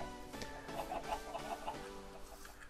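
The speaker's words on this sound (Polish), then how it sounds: "kurczaki są tutaj" Minecraft chickens cluck steadily in a soft, continuous murmur of short calls, with no one talking.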